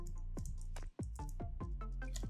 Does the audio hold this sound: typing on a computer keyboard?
yes